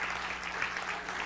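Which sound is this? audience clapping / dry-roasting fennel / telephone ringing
audience clapping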